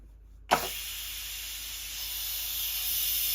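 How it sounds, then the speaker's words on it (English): Steam vents from a pot of freshly cooked rice in a home kitchen, starting with a sudden burst and then settling into a loud, steady hiss that keeps going without a break. "Blows steam up to the ceiling and just makes a big slobby mess."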